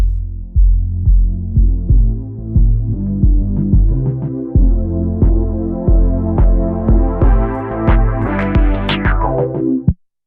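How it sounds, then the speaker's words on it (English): A looped beat from a Roland SP-404 mkII sampler plays alone for about ten seconds, its steady punchy kicks and layered tones slowly opening into brighter, fizzier highs as a filter sweeps upward before stopping abruptly. "we could create a loop with, say, a filter to make it an intro"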